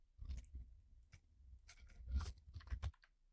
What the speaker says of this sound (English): I'm just going to open Figma and then start typing in the names that I want.